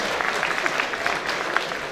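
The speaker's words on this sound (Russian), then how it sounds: "Встречайте их аплодисментами" An audience at a military training centre performance claps in a loud, close, continuous wash of applause for a group taking the stage.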